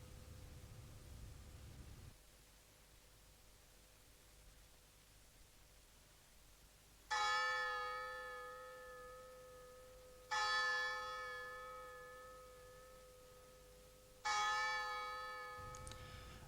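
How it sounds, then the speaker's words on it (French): Monastery church bell tolling three times, each strike ringing out with a long decaying hum over faint background hiss. "la cloche les ramène sans cesse à eux-mêmes et à Dieu"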